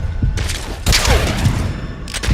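Gunfire bursts from a stealth action game set in a military base, loud and close, with a sharp shot near the start, a dense volley around the middle and another burst at the end over ambient game noise.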